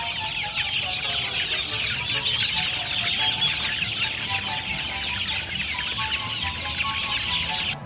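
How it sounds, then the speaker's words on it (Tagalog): A flock of chicks and hens clucking and peeping continuously, a busy, steady chorus of small bird calls close by with faint low background noise throughout. "Mga sisiyo pala."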